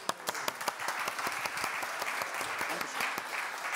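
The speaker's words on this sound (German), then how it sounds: "Ein Applaus" Applause from a corporate event audience during a prize draw, fairly quiet and distant, starting with a few distinct sharp claps that quickly merge into an even patter of many hands.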